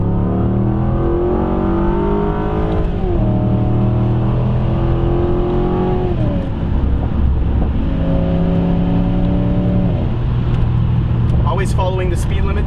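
A Volvo S80 V8 accelerating at full throttle, a loud engine climbing through several gears with short shift dips and sharp exhaust pops near the end, with someone talking over it.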